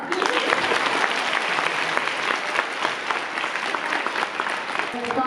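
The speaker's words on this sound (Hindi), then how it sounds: "मेरे लिए तालियां।" Students at a girls' school quiz competition clap steadily in a lively, close round of applause, dense and even throughout, with a faint voice at the very end.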